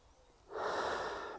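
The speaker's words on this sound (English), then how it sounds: "back to my breathing, lovely refreshing breath in, and a releasing breath out" Deep breathing during a mindfulness practice: a quiet pause, then one long, steady breath of air that stays loud and close for almost a second, with no talking.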